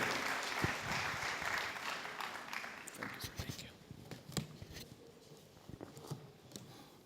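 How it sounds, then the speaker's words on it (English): Audience applause fills the room at a Patients' Bill of Rights launch event, a dense burst of clapping that gradually thins into scattered claps as it fades. "Please, a warm round of applause for him."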